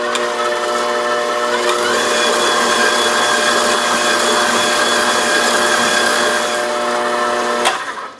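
Electric mixer whipping cake batter for a poppy seed Bundt pound cake, a loud, steady motor whine running unbroken for several seconds before cutting off near the end.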